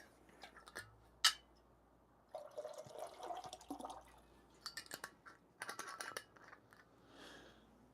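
Water being refilled for pour-over coffee, heard up close as intermittent splashing and trickling bursts with small clicks and knocks between them, alone and without talk.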